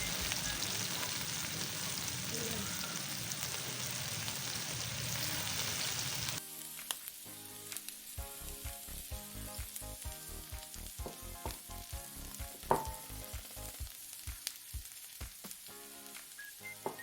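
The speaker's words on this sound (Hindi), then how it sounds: "हम आराम से टिक्कियों को ऑयल में शामिल कर देंगे" Chapli kabab patties frying in oil on a flat griddle with tomato, a loud steady sizzle that drops to a softer crackling with scattered pops and clicks.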